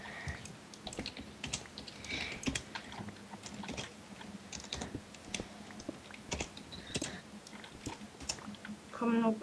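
Rapid, irregular clicking of typing on a computer keyboard runs throughout, with a few louder taps near the end.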